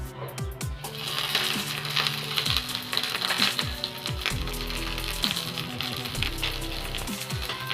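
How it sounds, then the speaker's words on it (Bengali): A boiled egg fries in mustard oil with a continuous crackling sizzle, over which background music plays throughout. "আমি সর্ষের তেলে রান্না করছি, তোমরা তোমাদের যেই তেলে পছন্দ হয় ওই তেলে রান্না করো। এবার আমি সেদ্ধ ডিমটি একটু ভেজে নেব।"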